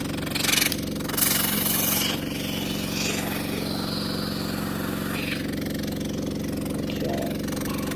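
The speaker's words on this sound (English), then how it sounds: "So we've got our air compressor going." An air compressor runs steadily with a constant mechanical hum and drone, used to inflate an animal pluck for dissection; brief louder hissy bursts appear early on, and no one speaks.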